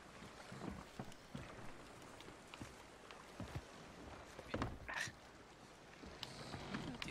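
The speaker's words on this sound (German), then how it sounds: "dieses Ruderboot, das ist so schön gemütlich." Rowboat gliding over open sea in Sea of Thieves, with steady wash of water and wind under faint lapping, a brief louder splash of an oar stroke near the middle, otherwise calm and continuous.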